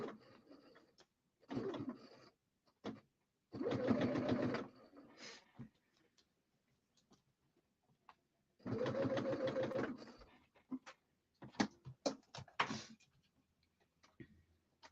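A home sewing machine does free motion quilting on a quilt, running in a few separate bursts of steady, close mechanical chatter lasting a second or two each, with quiet pauses and scattered clicks and handling noises between them.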